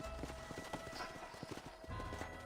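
Horse hooves clip-clopping in Red Dead Redemption, a quick steady run of soft thuds over a low ambient bed, with no one talking.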